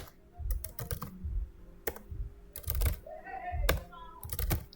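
Fingers tap on a computer keyboard while entering spreadsheet data, close-up keystrokes arriving in irregular bursts and short clusters separated by brief pauses.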